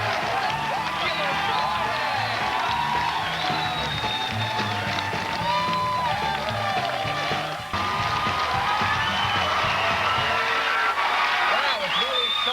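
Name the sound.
studio audience cheering and clapping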